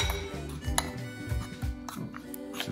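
Vegetable biriyani ingredients are mixed in a bowl, with soft clinks and scrapes of a utensil against the dish repeating in a loose rhythm, close and quiet, with no talking.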